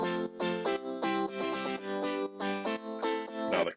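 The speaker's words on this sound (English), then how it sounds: "These are made up of pianos and synths that fit well together." Layered piano and synth chords in a classic chord progression, a short run of rhythmic stabs repeating with brief gaps, bright and full, with nobody talking over them.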